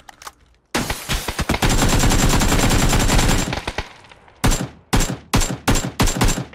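MK-14 rifle fire in PUBG: a loud, close sustained burst of rapid automatic shots lasting a few seconds, then a short pause and five separate sharp single shots in quick succession.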